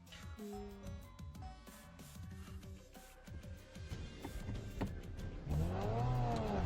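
A car engine in sport mode builds to a loud, rising rev near the end, after a stretch of mixed tonal sounds and clicks inside the vehicle.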